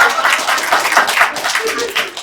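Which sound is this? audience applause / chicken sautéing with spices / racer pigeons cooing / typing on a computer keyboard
audience applause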